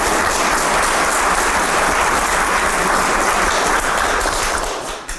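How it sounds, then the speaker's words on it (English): Students at a ribbon-cutting ceremony for a Bridgestone Auto Center at East CLC get a dense, sustained round of applause from a crowd, loud and continuous, tapering off at the end. "Kids, give yourselves a round of applause."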